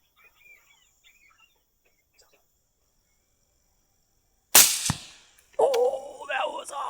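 A single sharp gunshot cracks during a daytime thermal-scope hog hunt and hits the animal, loud and close after near silence with faint birdsong. An excited voice follows.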